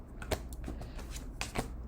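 A deck of tarot cards is shuffled close up, giving soft irregular riffling clicks and a couple of sharper snaps over a quiet low hum.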